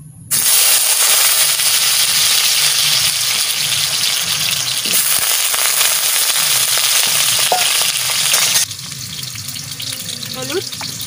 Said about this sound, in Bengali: তেল গরম হয়ে গেছে, আলুটা ভাজা করে নিই।